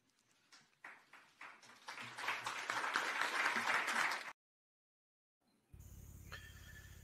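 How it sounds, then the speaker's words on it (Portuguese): Applause from everyone present at the end of an interview, starting as scattered claps and building into a dense, steady ovation before cutting off abruptly, followed by silence and then unrelated background noise. "acabou essa parte aí com aplausos de todo mundo"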